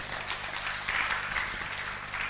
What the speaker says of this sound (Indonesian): tepuk tangan buat adik kita